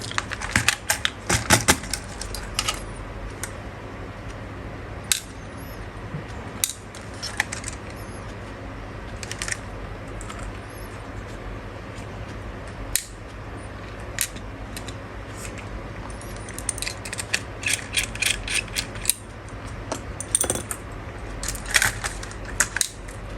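Small screws being removed from the aluminium front arm of a DJI Mini 4K drone, heard as scattered light clicks and tiny metallic taps in bursts over a quiet steady background, with no talking.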